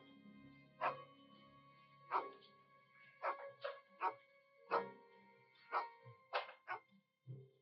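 A dog barks in a series of sharp, loud, close barks, in irregular bursts of single and paired woofs with short gaps between them, with no other sound around them.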